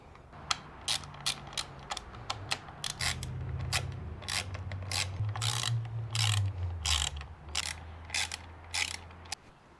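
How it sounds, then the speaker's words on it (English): Screws are driven into a 2013 Harley-Davidson Softail Deluxe ignition switch, a quick series of close, crisp ratcheting clicks in irregular bursts over a quiet background. "Slam them screws in."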